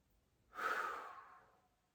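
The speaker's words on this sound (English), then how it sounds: "Last 2 breaths." Slow, deep exhale during a lower-back stretch at a desk, a single soft airy breath swelling and then fading over about a second, close and quiet.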